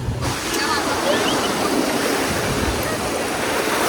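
Sea waves surging and washing against a boat heading out to deep sea off the Kerala coast, a loud, continuous rush of broadband water noise with rumbling lows and steady wind-like hiss throughout.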